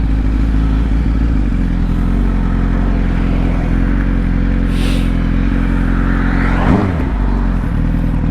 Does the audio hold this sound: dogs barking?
no